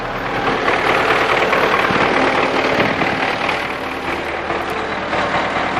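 An MTZ-82 tractor engine runs steadily close by with a broad, rough mechanical roar, the faulty PTO shaft spinning continuously under it at an even level with no talking.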